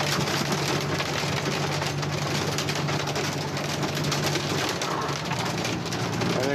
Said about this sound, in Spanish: aquí el momento de la granizada